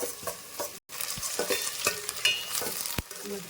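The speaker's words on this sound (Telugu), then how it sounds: "ఆనియన్స్ బాగా ఫ్రై అయిపోవాలి." Onions frying in a pan for chicken curry, a steady close sizzle with stirring scrapes and clicks throughout, briefly cut by a moment of near silence, with no one talking.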